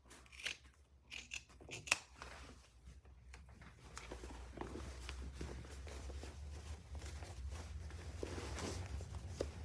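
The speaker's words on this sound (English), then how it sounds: "let's trim these up just a little" Several close, crisp snips of scissors trimming fabric pieces for a shoulder bag, followed by soft rustling and shuffling movement.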